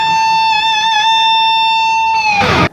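A single clean electric guitar note is bent and held with slight vibrato, its muted tone sustaining steadily before a short noisy scrape cuts it off at the end.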